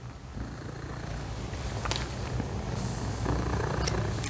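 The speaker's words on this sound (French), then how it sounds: "C'est un petit chat très affectueux qui a besoin de beaucoup d'amour." An affectionate small cat purrs steadily and close up, a continuous low rumbling drone with faint rustling and a few light clicks, no talk over it.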